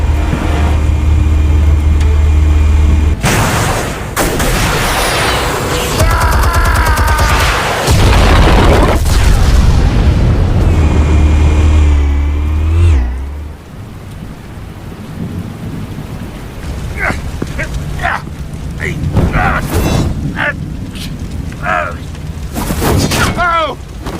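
Heavy, rumbling explosions boom loudly in Batman: The Telltale Series, with deep sustained roars and crashing debris filling the first half before fading to quieter clatter and scattered impacts.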